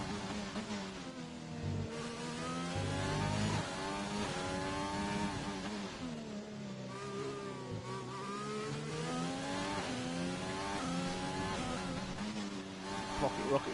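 A race car engine on a hot lap in a racing game drones steadily through the whole stretch, its pitch rising and falling in long sweeps as it accelerates and brakes, with a faint voice talking underneath.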